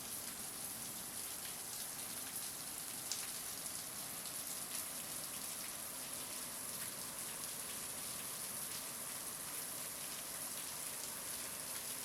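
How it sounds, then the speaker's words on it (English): Steady heavy rain pouring down, a dense continuous patter and hiss with occasional louder drops, no voices. "It's raining real hard."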